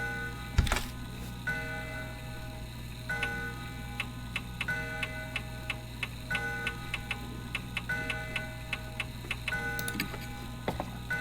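An antique grandfather clock in a quiet room ticks steadily and evenly, each sharp metallic tick ringing with bright overtones over a low constant hum, no voices present.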